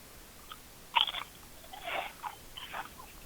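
A phone-in caller makes chewing noises into the line during a live call-in show, a few soft crunchy mouth bursts spaced over a few seconds, faint and close, with no talk.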